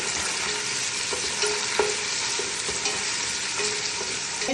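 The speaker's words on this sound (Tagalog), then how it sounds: "Mix ko lang siya." Onion, garlic, dates and dill frying in a pot while being stirred, a dense continuous sizzle with occasional utensil taps against the pot, close and steady throughout.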